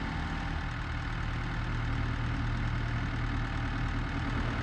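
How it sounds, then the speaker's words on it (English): A truck engine in the Farming Simulator 22 video game drones steadily at idle, loud and continuous with a low rumbling tone and no change in pitch. "you can hear the truck from like right here forward"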